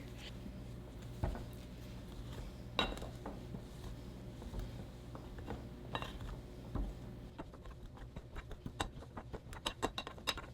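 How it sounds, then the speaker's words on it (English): Butter being cut into flour in a bowl for flaky cheesy empanada dough: faint, irregular clinks and scrapes of a utensil against the bowl that grow quicker and denser toward the end, with no speech. "Get in there and cut that butter."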